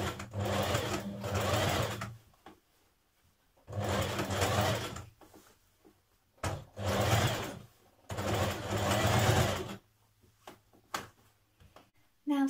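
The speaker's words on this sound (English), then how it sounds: "You're then going to top stitch 6mm onto the shirt like you did with the yoke." A sewing machine topstitching a shirt seam runs in several bursts of fast, rhythmic stitching, close and clear, separated by short quiet pauses.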